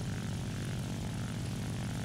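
A German early-tier propeller fighter plane in War Thunder drones steadily, its piston engine and airscrew holding a loud, continuous hum with no break and no voices.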